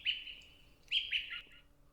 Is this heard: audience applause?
no